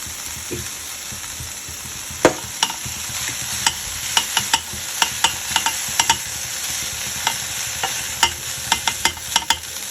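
Steamed idiyappam strings being stirred into fried tomato and onion in a pan, a low sizzle under a steady run of sharp spatula scrapes and clicks against the metal, close, with no talk.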